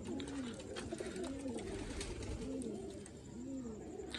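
Sialkoti breeder pigeons coo in a steady repeating rhythm, four soft rolling calls close by over faint background hiss.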